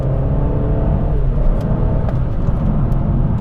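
A BMW X5 M E70 SUV, a 550-horsepower model, drives along with a loud, steady engine rumble and road drone filling the cabin, no speech.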